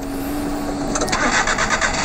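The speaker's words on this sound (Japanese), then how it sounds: "はい、エンジンかけました。" A car engine is cranked and catches about a second in, the starter whirr giving way to a rough, pulsing idle, loud and close.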